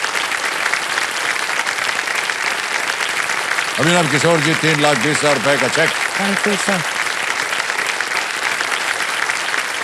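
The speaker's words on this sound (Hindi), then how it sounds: "तालियां बच जाए इनके लिए।" Studio audience on the KBC quiz show applauds steadily for a contestant, a continuous bed of clapping that runs the whole time while someone speaks over it midway.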